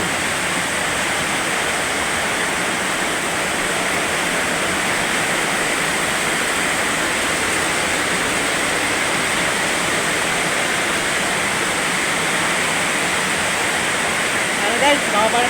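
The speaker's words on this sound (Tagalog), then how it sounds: "Ano ko lang sa inyo yung buhos ng ulan, napakalakas" Heavy rain pours at night in Dasmariñas, Cavite, a loud, unbroken hiss of water falling steadily over the whole stretch with no letup.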